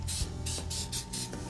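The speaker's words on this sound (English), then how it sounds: "I want to give it a little spray just to help shine up a little bit when we throw it into our 350 degree oven" Cooking spray hisses from a can over an upside-down cake before it goes into a 350-degree oven, five short close bursts in a quick, even rhythm.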